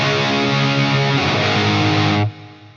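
Electric guitar played through an amp's preamp distortion, a thick sustained chord ringing loud and alone for about two seconds before cutting off abruptly.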